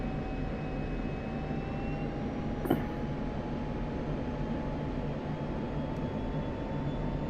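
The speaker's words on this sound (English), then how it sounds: "Oh, this helicopter is fantastic." Helicopter in flight in the DCS World video game, a steady, faint engine and rotor drone with a sustained whine and one short click partway through, with no speech.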